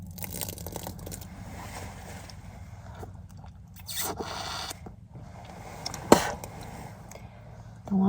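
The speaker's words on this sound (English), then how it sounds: "Brushing your teeth while camping." Toothbrush scrubbing teeth at a campsite, close wet scraping and brushing strokes in irregular bursts with a brief sharp knock partway through.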